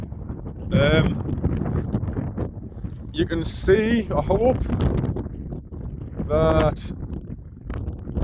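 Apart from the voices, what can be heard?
wind blowing on the microphone outdoors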